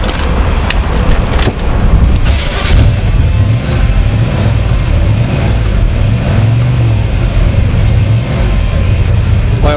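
A 1980 Chevrolet Camaro Z-28 show car's engine runs loud and close, a heavy low rumble that holds steady throughout with rough bursts near the start.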